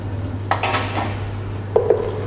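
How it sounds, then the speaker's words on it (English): Onions and ginger garlic paste stirred in a pan for a sweet corn curry, with a few soft scraping clinks of a spoon against the pan over a low steady hum, and two sharper taps near the end. "You can put your ginger garlic paste and have to mix well."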